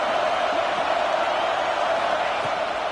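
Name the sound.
stadium crowd noise in College Football 26 video game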